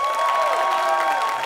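Crowd noise from an audience at a Harrisen Daiko taiko drumming show at CVG-TV 2014, a steady wash of clapping and cheering with some shouts, loud and close throughout.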